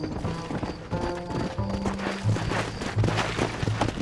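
Rhythmic clip-clop of horse hooves over a busy soundscape in the video game Red Dead Redemption, with a short whinny partway through; synthetic and steady in loudness.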